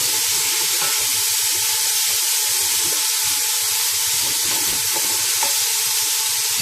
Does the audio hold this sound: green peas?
yes